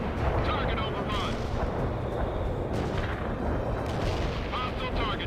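Incoming artillery rounds pound a World in Conflict battlefield, a dense, continuous roar of blasts and rumbling explosions, loud and close throughout, with faint voices mixed underneath.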